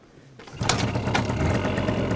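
Small two-stroke engine of a Suzuki PV moped starts buzzing after a quiet moment, then holds a raspy, high-pitched revving drone, close and fairly loud.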